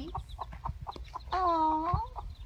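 Backyard hens brooding eggs outside give a run of soft, rhythmic clucks, then a longer drawn-out squawk, close and moderately loud.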